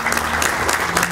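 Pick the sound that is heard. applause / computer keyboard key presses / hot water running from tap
applause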